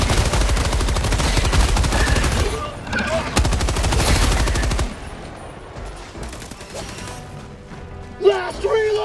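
Sustained machine gun fire in the Helldivers 2 video game, dense rapid bursts at full loudness for about five seconds, then quieter combat noise with a voice near the end.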